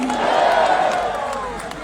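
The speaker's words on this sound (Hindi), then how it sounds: "हमारे आदरणीय बागेश्वर सरकार पूज्य धीरेन्द्र शास्त्री जी महाराज का जोरदार तालियों से अभिनंदन करें" Loud crowd noise at a religious gathering in Uttarakhand welcoming Bageshwar Dham's Dhirendra Shastri, with cheering and shouts in a dense wash, the clapping itself not clearly distinct.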